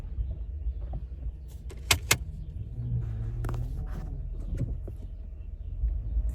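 Low rumbling engine of a Lincoln car creeping slowly along a driveway, steady and close, with a couple of sharp clicks.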